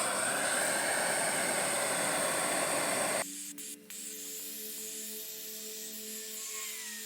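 A small blowtorch flame plays over scrap wood with a steady, loud roaring hiss for about three seconds, then shuts off abruptly, leaving a quieter background with a couple of faint clicks.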